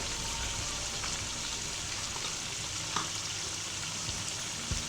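Garlic-ginger paste frying with green chillies and cumin for a chicken karahi, a soft steady sizzle with faint crackles, quiet and continuous with no voices.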